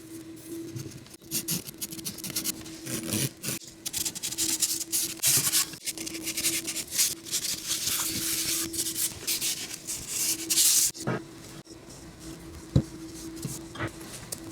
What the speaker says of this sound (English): I'm going to come back with a card scraper and some hand sandpaper to fine tune everything a little bit